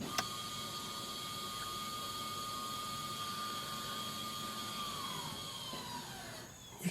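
Electronic parking brake motor on a 2019 Hyundai Santa Fe rear brake, heard as a steady whirring hum with a thin whine that holds for several seconds, then slides downward and stops, ending with a soft click.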